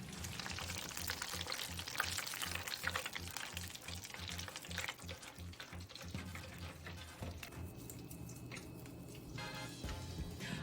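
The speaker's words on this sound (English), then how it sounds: "we are gonna fry these until they are deeply golden brown and delicious" Stuffed pepperoni and mozzarella arancini deep fry in a pot of oil, a faint continuous bubbling sizzle with soft crackles and low background rumble, steady throughout with no talking.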